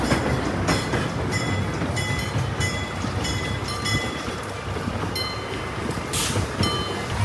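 Miniature park train rolling along its rails at an amusement park, a steady nearby rumble with faint rhythmic clacking of wheels and a brief hiss near the end, no talk.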